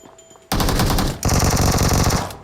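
Loud, continuous automatic gunfire in the PUBG Mobile battle royale game, breaking in abruptly after a quiet start, pausing briefly, then resuming as a dense rapid burst with no talking.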